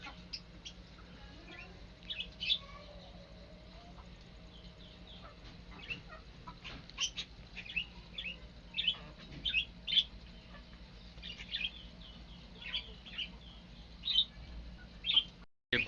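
Caged budgies and doves chirp and tweet in a busy, overlapping chorus of short high calls, moderately close, over a steady low hum, with no talking.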